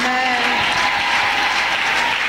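Church congregation applauds and cheers during a prayer service, dense sustained clapping mixed with voices filling the room.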